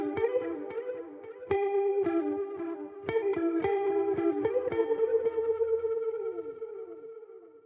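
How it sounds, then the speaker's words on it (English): Clean electric guitar notes through a Valeton GP200 ring out with delay, each plucked phrase trailing off in fading repeats; no voices. "So I'm going to turn on my delay."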